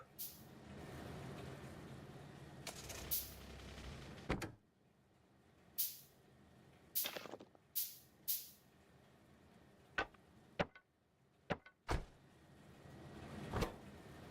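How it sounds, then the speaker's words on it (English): A car trunk closes in the game Factorio (Pyanodon mod) with a few sharp, quiet thumps and clicks, scattered between soft rustling bursts and stretches of near silence. "you can hear the trunk closing when you close it"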